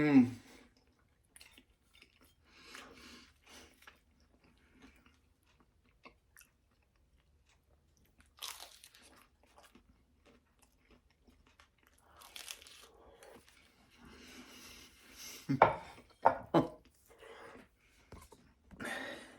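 Someone chewing crunchy breakfast tacos with bacon, fluffy eggs and potatoes, soft intermittent crunches and bites close to the mic, with brief clinks and a few murmurs of speech between quiet pauses.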